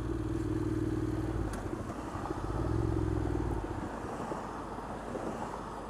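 A motorcycle riding in traffic, its engine droning low and steady with swells in revs, heavily buffeted by rushing wind noise throughout.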